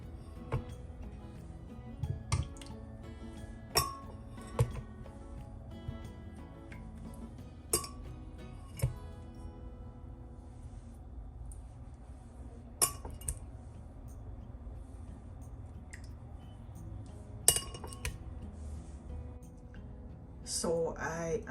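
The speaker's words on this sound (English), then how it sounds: "So let's put our yam and our banana in our blender." Pieces of soft yam and banana drop into a blender, giving sparse clinks and knocks against the glass jar, fairly quiet and spaced out, with a brief rustle at the end.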